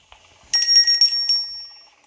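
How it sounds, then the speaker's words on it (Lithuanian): A bell rings in the horror video game Granny 2: a quick burst of several bright, overlapping metallic strikes that hang on and slowly fade, alone and fairly loud. "Lemba tas skambutis truputį nervina"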